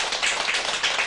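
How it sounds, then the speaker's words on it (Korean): A short burst of applause from a crowd at a Buddhist sutra lecture, heard as a soft, dense wash of many hands clapping together. "요거 박수쳐."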